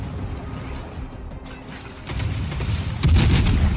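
Naval gunfire and incoming shells in World of Warships: a rumbling mechanical backdrop, then heavy booming impacts that grow louder and denser toward the end.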